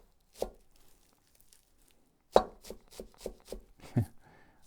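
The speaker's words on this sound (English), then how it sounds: "Push chop." A Chinese cleaver push-chops bunched vegetables on a board: one isolated chop, a pause, then a quick run of about eight crisp, close chops with rhythmic spacing.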